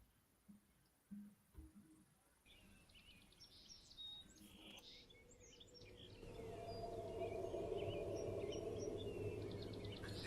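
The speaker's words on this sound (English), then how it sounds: "But you can hear that birds chirping." Faint bird chirps sound outdoors at night near a porch, scattered short calls over a low background hum that grows louder midway, with a few soft knocks early on.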